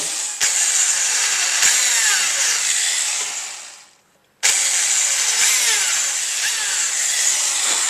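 A power drill bores small holes in a trailer for self-tapping screws, whining in two sustained bursts separated by a brief pause, close and fairly loud, with sharp clicks at the starts.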